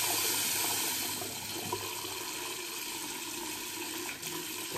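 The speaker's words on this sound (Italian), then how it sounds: "Mettiamo un po' d'acqua calda" Hot water running steadily from a tap during a wet-shave lather preparation, a continuous close hiss and splash with little variation, no voices.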